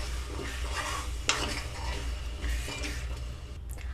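Tamarind pulp is stirred into red chilli pickle with a spoon, producing close wet squelching and scraping in a bowl, with one sharp clink of metal against the container partway through.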